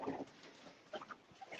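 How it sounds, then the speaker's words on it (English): Racing pigeons coo in a loft during a young-bird one-loft race check-in, giving a few soft, low, scattered coos close by in a quiet room. "so this pigeon that's in the hallway"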